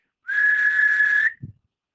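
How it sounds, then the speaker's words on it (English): A single steady, shrill whistle blast lasting about a second, followed by a soft low thump. "A whistle blows."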